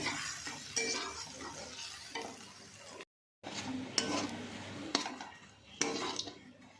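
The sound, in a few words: stirring ground pumpkin-leaf paste frying in mustard oil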